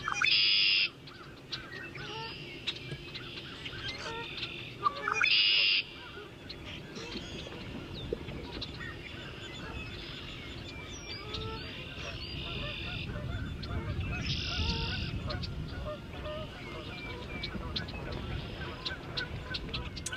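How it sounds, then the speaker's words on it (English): Red-winged blackbirds and geese call outdoors on Black Hawk Island, with short bright trills and honks rising over a faint continuous ambient wash at low volume. "Here are these really beautiful red-winged birds with some geese."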